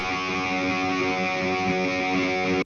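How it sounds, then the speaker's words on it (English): Distorted electric guitars hold one long, droning note, loud and sustained, before cutting off sharply. "There's these guitars, they can make a comeback doing long notes this time"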